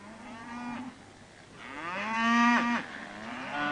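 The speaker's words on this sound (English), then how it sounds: "The farmer with his cows." Cows low in two drawn-out moos on a farm, the second longer and louder, sounding fairly close and alone with no talk.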